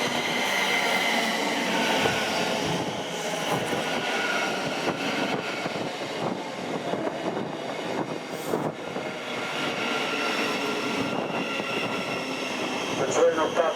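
An 8-car Luton-bound service train pulls into Brent Cross West station, a sustained loud rumble and rail hiss with brake squeal and mechanical whine lasting the whole stretch.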